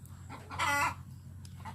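A laying hen on a farm gives one short, fairly faint cluck over a low, steady background hum, with softer rustling noises around it.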